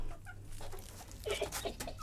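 Chickens at a farmyard in the evening, clucking in short scattered bursts, a denser cluster of calls midway, fairly near over a low steady hum.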